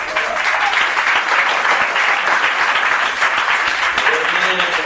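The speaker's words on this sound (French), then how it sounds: "Les enfants, vous allez acclamer vos parents" Children at a church gathering applaud their parents with sustained, dense clapping and cheering, loud and steady throughout, with voices mixed into the noise.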